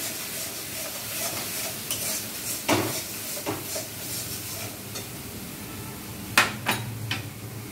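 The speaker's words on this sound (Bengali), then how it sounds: "এবার এই সবটা ভালোভাবে নেড়ে দেবো আর এটা ভালোভাবে কষিয়ে নেব।" A spice mixture for egg kofta curry is stirred and sautéed in a pan, with a steady low sizzle under scattered scraping and clinking knocks of a utensil against the metal, louder near the middle and end, no talk.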